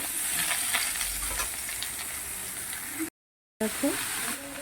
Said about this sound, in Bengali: এবার আমি ওলকপিটাকেও ভালো করে ভেজে নেব